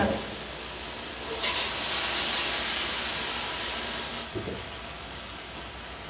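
Blended onion and tomato are poured into hot seafood broth, setting off a loud steamy hiss and sizzle that swells for a few seconds then settles into a steady bubbling rush.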